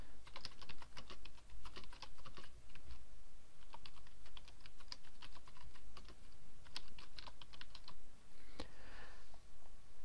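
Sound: typing on a computer keyboard

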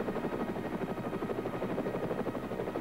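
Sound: helicopters arriving

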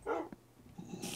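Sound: pet dog barking in a video game

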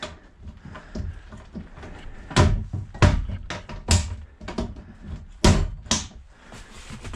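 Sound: cabinet in a camper van being opened and closed

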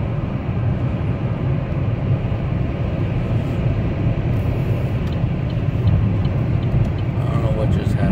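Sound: car engine accelerating hard on the highway

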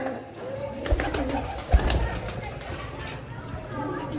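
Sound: pigeons cooing

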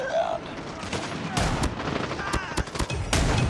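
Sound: rapid gunfire in Call of Duty Mobile video game

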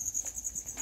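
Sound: Thai crickets coming out to feed

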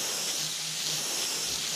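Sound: airbrush spraying paint for ghost flames

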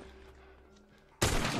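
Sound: gunshot in the video game The Last of Us

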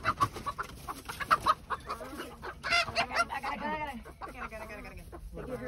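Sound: chickens clucking in a chicken coop

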